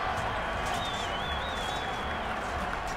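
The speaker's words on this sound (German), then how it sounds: "Sie kriegen jetzt plötzlich Applaus." Applause in the video game Pizza Connection 3, a continuous wash of crowd clapping with a faint whistle-like tone drifting over it, steady and even throughout.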